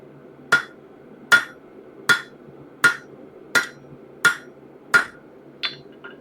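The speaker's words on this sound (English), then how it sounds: "By hammering on the edges, we've got a little bit of a parallelogram." A hammer strikes the edges of a hot steel spatula blank at a forge, eight sharp ringing blows at an even, steady pace, each followed by a short metallic decay, with no talk.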